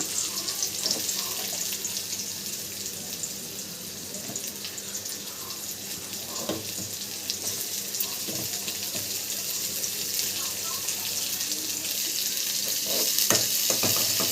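Sliced onions and green chilies fry in a pan, a soft continuous sizzle with a few scrapes and clatters of stirring, faint and steady throughout.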